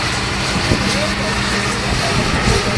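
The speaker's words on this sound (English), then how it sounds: "Nice steady pull here for a two-wheel drive tractor." Two-wheel drive Massey Ferguson 2805 tractor pulling hard under heavy load in a pulling contest against a four-wheel drive New Holland TM155, a loud, steady, dense engine roar with crowd voices mixed in throughout.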